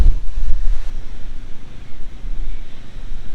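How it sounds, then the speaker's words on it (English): Strong wind buffeting a microphone at a Murray River free campsite at Big Bend, loud low rumbling gusts rising and falling continuously, no talk. "She's a bit windy today"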